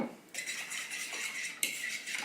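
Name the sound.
stirring maple syrup and cinnamon with a spoon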